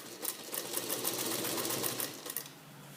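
A sewing machine stitches a fabric sleeve onto an armhole, a close, fast steady whirring run of stitches lasting a few seconds before stopping.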